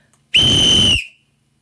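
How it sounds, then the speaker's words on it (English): A single loud, sustained whistle blast marks the start of a kids' soccer game, holding steady for about seven-tenths of a second before cutting off cleanly. "The second the starting whistle blasted, every player exploded into action."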